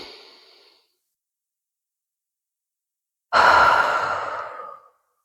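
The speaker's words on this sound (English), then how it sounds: "allow yourself the most spacious, deep, luxurious breath that you can" A single person takes a deep, slow breath, the faint tail of one exhale, a long pause of silence, then a loud, drawn-out sighing breath out that fades gradually.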